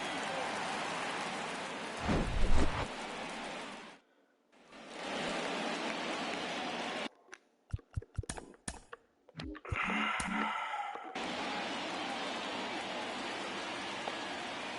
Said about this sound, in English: Oh, nope, still raining.